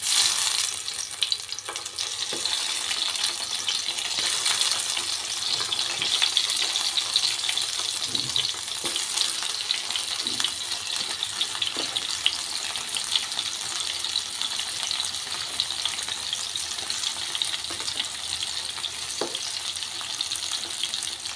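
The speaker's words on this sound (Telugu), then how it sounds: "ఇప్పుడు ఈ ఆయిల్ హీట్ అయిన తర్వాత ఇందులోకి బాగా చక్కగా పండిన ఎర్రని టమాటాలు ఒక 5-6 తీసుకున్నాం కదా, వీటిని ఇలా ముక్కల్లాగా కట్టేసుకొని ఇవి ఆయిల్లో ఇలా పెట్టుకుందాం" Ripe red tomato pieces frying in hot oil for a tomato chutney, a long steady sizzle close by, with scattered light clicks and scrapes of stirring and no talking.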